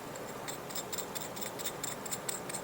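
Crispy oven-fried chicken with no bread crumbs crackles faintly as it cools, a soft, continuous fizzing with small irregular ticks, close and quiet with no talking.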